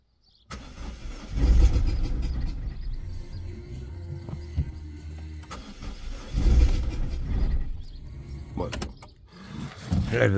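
A Peugeot 207 1.6 HDi diesel with a worn timing chain and 545,000 km is cranked repeatedly in bursts of starter churning that fail to catch, with short pauses between attempts and faint background voices.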